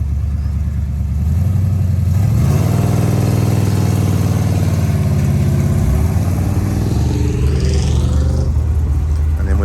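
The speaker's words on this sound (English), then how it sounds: "we love the sound of V8s" A V8 engine in an HSV Maloo-powered HG Panelvan runs close by at a car meet, idling with a steady low throb before building into a rev and settling again, loud and continuous throughout.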